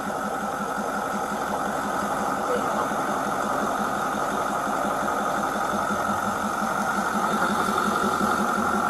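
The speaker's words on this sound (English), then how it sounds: "I'm sitting next to this engine. I can barely hear you." A nearby engine idles in a steady, loud, unbroken drone with an even mechanical chug that persists throughout, dominating any other sound.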